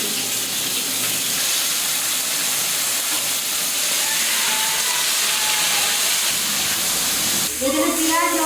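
Fish fresh from a pond sizzles in hot oil in a pan, a steady loud hiss throughout, with a brief burst of sharper spitting and crackling near the end.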